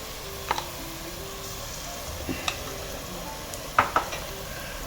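Ginger garlic paste frying in hot oil with browned onions: a faint, steady sizzle with a few light clinks and scrapes of a spoon stirring the pan, no voices.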